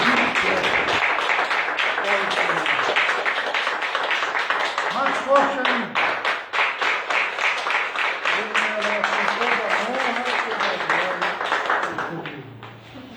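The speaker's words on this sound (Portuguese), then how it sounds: "Dê uma salva de palmas." Church congregation applauding during a Sunday evening service, dense sustained clapping running throughout with a voice speaking over it and a brief cheer near the end.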